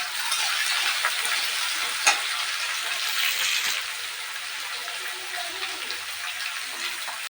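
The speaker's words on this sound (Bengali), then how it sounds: "পেঁয়াজটা আমি নুন দিয়ে ভেজে নিতে হবে" Onion sizzles steadily in hot oil with salt, a dense, continuous frying hiss close by, with a brief clatter near the start and no voices.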